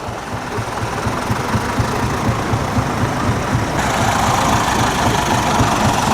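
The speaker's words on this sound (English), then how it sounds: "Many tractors running." Several tractor engines idle together at an outdoor classic car show, a steady low knocking throb that grows slightly louder and brighter partway through, with no talk.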